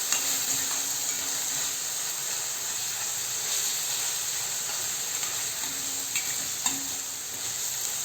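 A ginger, garlic and coriander paste masala being stirred in a hot pan gives a steady, even sizzle and hiss, with occasional soft scrapes of the spoon and no talking.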